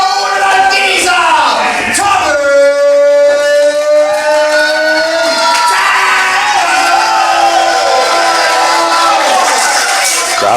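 A wrestling crowd in Falconwood roars and cheers for Tommy Tanner's entrance, loud and sustained, with shouts and an entrance theme playing throughout.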